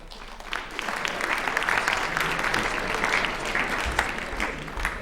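Moderate applause from a crowd at a high school honors recognition program, steady clapping at medium distance that continues for several seconds.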